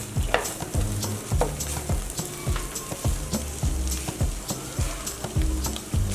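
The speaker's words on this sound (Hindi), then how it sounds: "अब थोड़ा सा कीमा हम फ्राई कर लेंगे" Minced meat keema for a khara masala keema fries in a karahi, with a steady, loud sizzle broken by rhythmic scraping and stirring strokes of a spoon against the pan, no talking.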